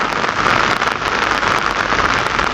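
Heavy rain pours steadily onto wet ground in the mountain valley of Naran, a dense, even hiss with no pauses and nothing else audible.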